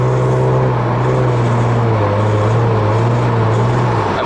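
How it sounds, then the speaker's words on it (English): Car engine with a rattle under partial throttle, check engine light on: a steady loud hum with a rough, buzzy rattling edge, close and continuous, no talk. "Right there, the rattling is going."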